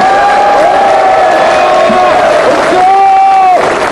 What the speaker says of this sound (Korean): 여러분 힘찬 박수로 여러분의 의지를 다시 한번 보여주시기 바랍니다